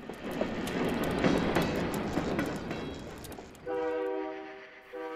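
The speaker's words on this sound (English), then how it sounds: "a Jeep 35 comes into view and passes through." CP Rail freight train with a Jeep 35 rolling through town on the Kettle Valley Division, a steady loud rumble and rail clatter, with a horn-like tonal blast near the end.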